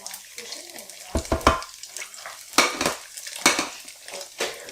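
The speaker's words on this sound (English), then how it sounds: "for some regular fried eggs, I'll put a little of that grease in there, a little of that bacon grease." Bacon grease in a breakfast pan, with eggs going in, gives a soft sizzle beneath clattering utensil scrapes and taps against the pan, several short bursts spaced across the span.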